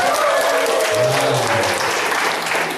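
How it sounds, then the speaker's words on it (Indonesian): An audience at a training session applauds loudly, a dense burst of clapping that lasts about three seconds. "Tepuk tangan dulu untuk ibu."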